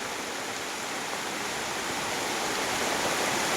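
A river running fast and strong just before rain at a Malaysian camping spot, heard as a steady, loud, broadband rush of water that holds constant throughout with no voices.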